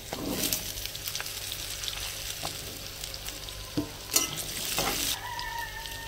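Cut potatoes for a kohlrabi curry drop into hot oil with green chillies and cumin powder and fry, a steady sizzle with scattered scrapes and clinks of stirring, close by, with no voices.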